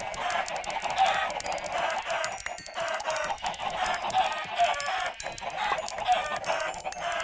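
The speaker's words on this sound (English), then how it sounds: "Something tells me I should cull these chickens." A crowd of Minecraft chickens clucks continuously in a dense, overlapping chatter of short, bright bursts, loud and close with no pauses and no talking.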